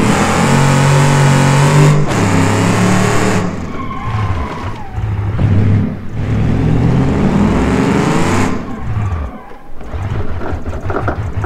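Ford Explorer engine in the BeamNG driving game, loud and continuous, revving and shifting through gears with pitch rising and falling as it climbs a mountain pass, with brief drops between gear changes.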